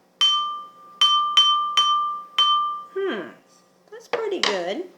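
Water-tuned drinking glass struck as a tuning note: five clear, ringing pings in quick succession, each with a sustained bright tone, followed by brief voiced vocal sounds that seem to match the pitch.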